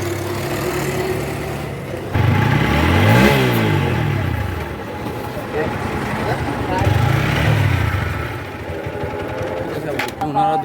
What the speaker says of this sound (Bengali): অনেকক্ষণ পর বাইকটা কোনোভাবে চালু করতে পারছি